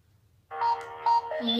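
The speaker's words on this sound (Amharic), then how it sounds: "እየጠራ ነው።" An outgoing phone call rings back: after a quiet moment, a clear electronic ringing tone sounds in two bursts, followed by a shifting higher tone.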